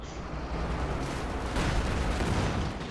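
Panzer IV tank cannon fire in the Company of Heroes 2 real-time strategy game, heard as a dense, sustained rumble of battle explosions and gunfire filling the whole stretch with a steady loud roar.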